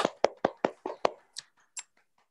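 A handful of loud, sharp hand claps in a quick irregular burst, about six strong ones, then a few softer scattered claps trailing off.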